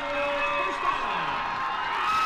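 A college football crowd at Loras vs Central cheers in the stands, a steady, moderately loud roar with voices shouting through it.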